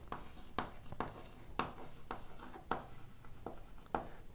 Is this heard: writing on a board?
yes